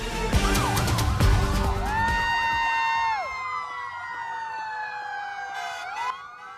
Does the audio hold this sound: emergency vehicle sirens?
yes